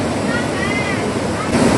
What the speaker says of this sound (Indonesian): inilah aliran sungai air Situmandi. Di kaki bukit